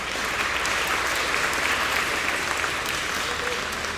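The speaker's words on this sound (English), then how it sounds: "Could I please get a round of applause for our Shaykh?" A graduation ceremony audience applauds steadily, a continuous moderate roar of many hands clapping, evenly sustained and slightly distant, without speech.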